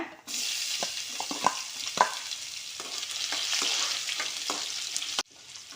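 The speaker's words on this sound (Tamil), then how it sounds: "வெந்தயம் கடுகு சீரகம் பொரிஞ்சிருக்கு" Cumin, fenugreek and mustard seeds sputtering in hot oil for a fish curry, a steady close sizzle broken by sharp scattered pops and crackles, stopping abruptly near the end.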